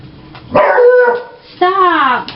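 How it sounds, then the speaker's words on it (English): Dogs barking at close range, two loud, drawn-out whining barks separated by a short pause, with a voice in the background. "those dogs always make a noise"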